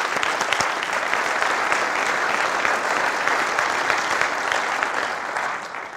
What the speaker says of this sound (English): I just want to have a round of applause for you guys for delivering this outcome